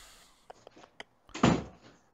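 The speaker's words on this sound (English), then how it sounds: "That was air pressure shutting my door." A door slams shut, pushed by air pressure indoors: a few faint taps, then a single loud, close bang that fades quickly. No voices.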